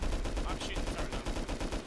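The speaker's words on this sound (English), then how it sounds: "I'm shooting the turret now." Rapid machine-gun fire aimed at a turret in the survival game Rust: a steady, fast, loud stream of evenly spaced shots filling the whole moment.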